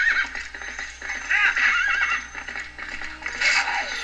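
A horse in The Legend of Zelda: Twilight Princess gives several loud, wavering neighs and whinnies, with clip-clopping hooves and gear rattle in the background.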